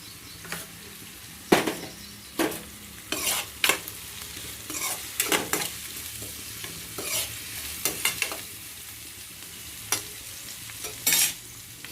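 Puffed rice for churumuri is stirred and tossed with onion and salt, producing repeated crisp rustling bursts in irregular rhythm over a quiet background, close by and without speech.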